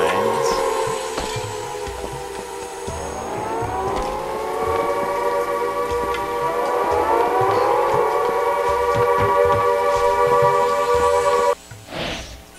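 A wailing alarm siren in the video game Siren: Blood Curse with rising and falling pitch sounds loudly and steadily for about eleven seconds, then cuts off abruptly near the end.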